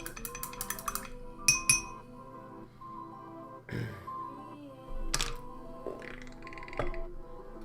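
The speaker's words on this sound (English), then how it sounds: "gonna wash this brush off" A paint brush being washed in a glass water jar, with bright clinks and taps of the brush against the glass and a few dull knocks, fairly close and without talk.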